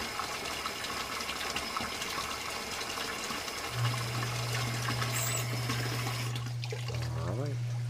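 Water runs steadily from a faucet into a newly installed sink, a continuous hiss that holds throughout, joined midway by a low steady hum.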